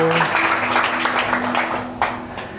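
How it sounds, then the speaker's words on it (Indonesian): Congregation applauding at a Sunday church service, a broad wash of clapping that fades toward the end, with faint talk mixed in. "Berikan tepuk tangan untuk Tuhanmu."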